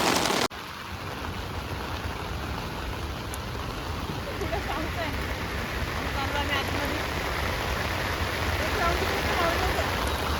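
Heavy rain pours steadily outdoors during a shoot, a dense continuous hiss of drops on surfaces that stays loud and even for the whole stretch, with a faint voice now and then underneath.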